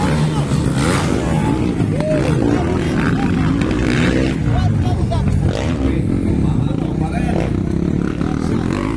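Racing motorcycle engines roar and rev steadily through the last lap of a motocross heat, loud and continuous, with an excited announcer and crowd babble over the top.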